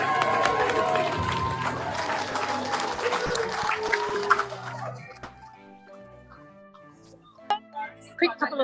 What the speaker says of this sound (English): So give them a big round of applause as they head out